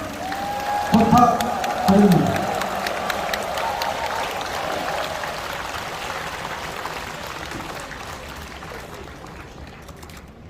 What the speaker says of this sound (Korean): 앞으로의 총무원장 소임을 응원하면서 더 힘찬 박수와 함성